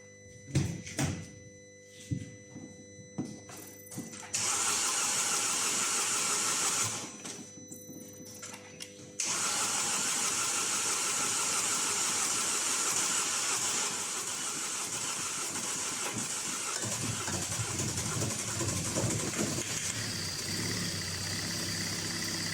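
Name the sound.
car engine starting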